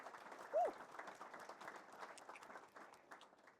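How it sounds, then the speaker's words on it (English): A symposium audience applauds presenting companies with light, scattered clapping at a distance, plus a brief whoop or cheer near the start and voices mixed in. "Let's give them a big round of applause just for coming and presenting their companies"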